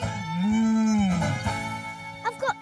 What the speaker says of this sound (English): I smell cows. I see them.